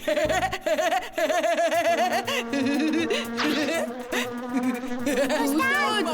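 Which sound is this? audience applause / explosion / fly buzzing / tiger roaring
fly buzzing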